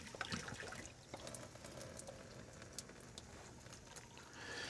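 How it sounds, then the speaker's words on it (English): Cooking water from fork-tender boiled potatoes strained off in a kitchen, a steady pouring and trickling wash of water with small splashes throughout, fairly close and moderately quiet. "we're going to just strain the water off"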